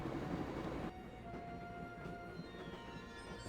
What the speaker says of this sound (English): I can barely hear it over the sound of the train.